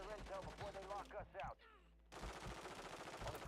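Rapid gunfire from a multiplayer shooter video game, with dense bursts of shots, a brief lull, then sustained fire resuming, close and loud, with short vocal sounds mixed in early on.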